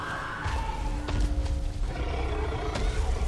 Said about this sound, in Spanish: Sounds like more of those giant demons.